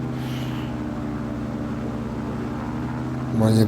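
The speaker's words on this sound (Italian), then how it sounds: "cominciamo a fare la prova motore" An ELA 07 gyrocopter engine, oil and water warm, runs steadily at a holding point during a run-up check with a constant droning hum, then rises louder near the end.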